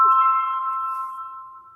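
A mobile phone gives a sustained electronic ring tone, a single steady tone that starts abruptly and slowly fades over nearly two seconds, loud and close with no talking over it.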